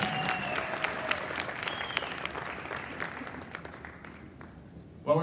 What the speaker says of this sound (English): let's have a big round of applause for the